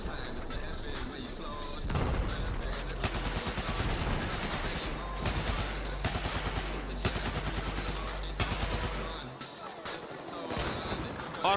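RPK machine gun fire in a video game comes in rapid bursts and scattered shots over several seconds, while voices talk over the gunfire.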